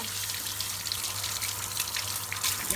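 Running tap water streams steadily over dried kidney beans being rinsed in a kitchen sink, a soft continuous splashing trickle held close and moderate in level, with no talking.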